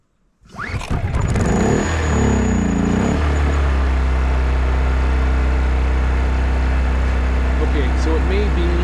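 A Champion 2500 dual-fuel inverter generator, model 201183, runs on propane. It starts abruptly from silence, revs up briefly, then settles into a loud, steady engine drone.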